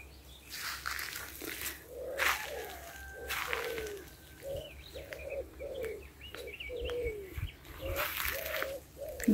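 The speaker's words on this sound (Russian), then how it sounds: "Горлица." A turtle dove coos repeatedly outdoors near a pond with water lilies, a steady series of soft rhythmic coos at moderate distance, with a few other bird chirps around it.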